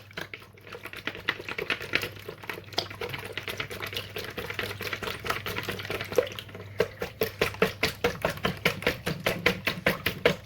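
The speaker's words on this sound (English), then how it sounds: "we're going to give it a good old whisk" A whisk beats eggs in a bowl for Yorkshire pudding batter, a fast steady run of sharp clicking strokes that grows louder and more even toward the end, with no voices.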